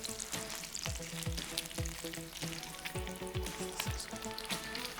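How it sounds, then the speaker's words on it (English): Bacon strips sizzle in a frying pan, a steady bright hiss with recurring pops and crackles as the meat cooks, fairly soft and uninterrupted by speech. "Let's flip these bacons over. Wow, hear that sizzle."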